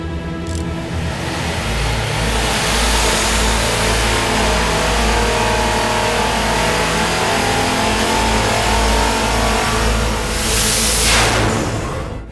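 A supercharged 427ci small block Ford with a Paxton blower roars steadily on a dyno, sustaining a loud, continuous high-rpm rev for the whole stretch with a brief rise near the end, no voices.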